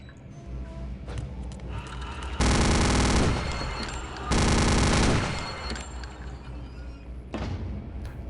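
A minigun fires in the shooter game Return to Castle Wolfenstein, two long, loud, sustained bursts of rapid gunfire separated by a short pause, amid softer in-game shots and thuds.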